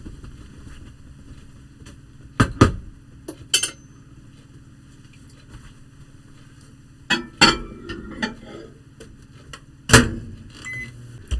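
A microwave oven in a small RV cooks a batch of pralines with a low, steady hum. Occasional clinks of dishes and a few short beeps break in over the drone.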